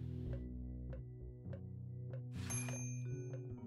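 A doorbell chime from the point-and-click adventure game Day of the Tentacle sounds at about 2.5 seconds, a bright ding over steady game music with repeating low notes.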